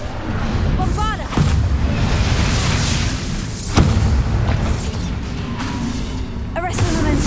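Bombarda spell blasts in the Hogwarts Legacy video game, several loud booming explosions at irregular intervals with whooshing spell effects between them and game voices heard over the action.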